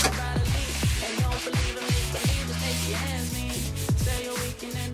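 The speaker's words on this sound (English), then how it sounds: "I'm just gonna take my 220 grit sandpaper, go in by hand, and sand down any rough areas" Hand sanding a wooden rush chair with 220 grit sandpaper, a continuous rubbing scrape heard close up, with tonal music playing loudly underneath.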